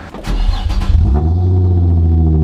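A Nissan 350Z engine runs loud and close, with a brief rough surge that settles into a steady, throaty idle drone.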